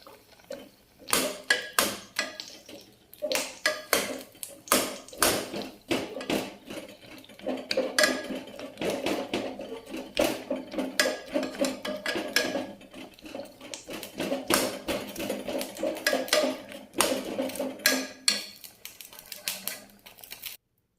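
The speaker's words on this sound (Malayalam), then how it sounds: "കപ്പയെ ഒന്ന് ഉടച്ചെടുക്കാം." Boiled tapioca is mashed in a pot after coconut milk is added, with irregular knocking and clacking of a utensil against the pot repeating steadily at moderate loudness.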